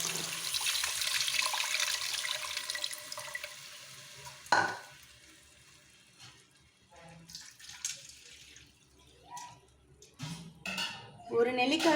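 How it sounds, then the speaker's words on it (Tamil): Kitchen sounds while tamarind water goes into a South Indian pepper-cumin rasam: running water, clinking utensils and metal pots, with a sharp clatter midway and more knocks near the end. "இந்த சூழ்நிலையில் புளிஜலத்தை ஆட் பண்ணிக்கோங்க."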